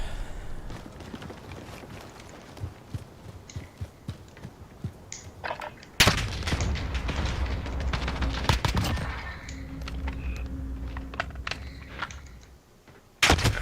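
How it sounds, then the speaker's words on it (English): Explosions and gunfire in a video game with a grenade launcher, a sudden loud blast hitting mid-clip after scattered bursts of shots, followed by sustained rumbling and sharp cracks, then a second heavy impact at the end. "It is a grenade launcher."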